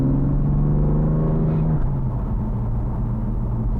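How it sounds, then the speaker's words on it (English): A BMW F80 M3 with its twin-turbo inline-six, set to its hardest drive settings, drones with a deep steady rumble that shifts to a lower tone partway through, heard from nearby without speech. "That inline 6 with the twin turbos sounds amazing."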